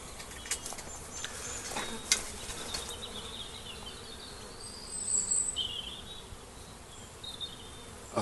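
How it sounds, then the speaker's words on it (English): A swarm of honey bees hanging in a bent-down willow gives a dense, steady buzzing drone, with a few individual bees flying close past in louder passes. "Another swarm."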